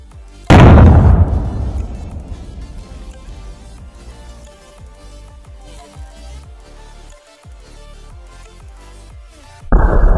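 A firecracker blasts a cooking pot into the air with one loud, close boom that rolls off into a long, fading rumble, followed near the end by another sudden loud burst.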